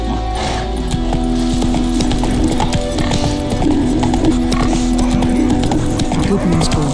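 Roach the horse galloping in The Witcher 3, a fast steady rhythm of hoofbeats clip-clopping continuously up close, with game music and a low hum underneath.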